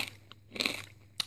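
Hand-cooked Mr Porky's pork scratchings crunch between the teeth in a few close, sharp bites, separated by brief quiet pauses.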